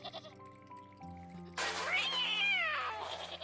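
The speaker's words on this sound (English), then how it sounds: "The harmonized meow is actually the most played sound in my channel." Harmonized cat meow sound effect, a chorus of stacked meows rising and falling in pitch over a musical background, loud and close, following a short run of musical tones.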